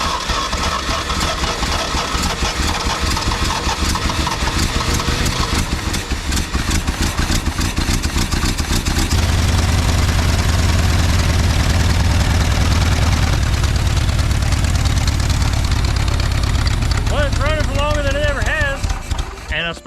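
The small engine of a junkyard wood chipper cranks and sputters into running, a loud close rattling chug that persists throughout with a voice talking over it.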